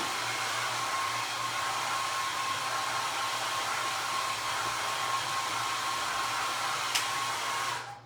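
A hair dryer blows steadily to dry a handmade vintage-style book, a continuous loud whooshing roar with a thin whine that holds for about eight seconds before switching off.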